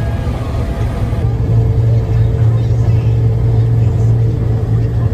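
Deutz-Fahr C7206 TSB hillside combine harvester running, a loud, steady low engine rumble with a constant drone and no pauses.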